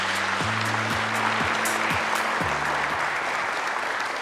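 Big round of audience applause at a national policy agenda briefing event, dense sustained clapping throughout with a low tonal musical backing underneath.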